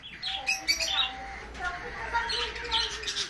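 Sun conure parrots calling during mating, with shrill, piercing chirps and squawks in short bursts at close range, with a voice speaking intermittently underneath.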